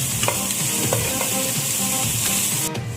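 Three large chopped onions fry in an open pan for a village-style chicken dish, a constant loud sizzle with a few light clicks of the spoon stirring through them.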